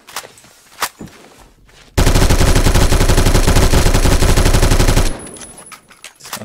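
A PDW submachine gun in Phantom Forces fires one loud, close, unbroken automatic burst of about three seconds. A few isolated shots and clicks come before it, and quieter handling noise follows.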